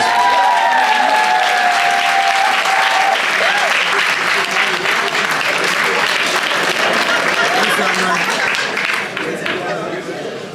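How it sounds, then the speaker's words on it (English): Wedding guests at a white wedding reception break into loud, dense applause for the bride, a sustained wash of many hands clapping that holds steady for about ten seconds before easing slightly at the end, with voices mixed in. "give Oyinda a rousing round of applause"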